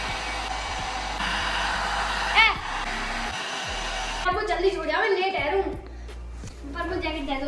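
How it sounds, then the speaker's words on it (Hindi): A small household hair dryer runs with a steady, loud whir under a child's and an adult's talk, then its pitch falls and wavers as the motor changes speed. "ये हेयर ड्रायर हमारे परिवार के एक अमीर सदस्य छोड़ गए थे, काफी बिजली खाता है ये छोटा वाला।"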